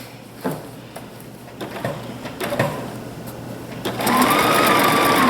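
A sewing machine stitching a blouse seam, a few short clicks and handling knocks followed by a steady, close mechanical whir as it sews forward.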